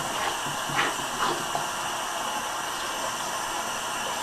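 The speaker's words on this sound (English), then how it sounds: "I need to rinse my gloves off" Tap water runs in a steady, even hiss while Vaseline is rinsed off gloves with Dawn dish liquid, close and continuous with no talk.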